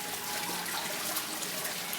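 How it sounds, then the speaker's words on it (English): Water trickling down a copper-accented cast stone tower fountain, a soft, continuous splashing patter heard close and alone at a low level. "So you can see that dripping effect as the water comes down between each of those sections."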